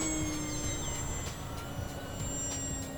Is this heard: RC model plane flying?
yes